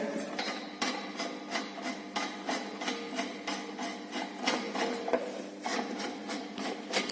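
Metal knocking and scraping while the rotor of a three-phase induction motor is wedged and tightened in place for a blocked-rotor test, a steady run of close hammer-like taps and rasping clicks at an even rhythm.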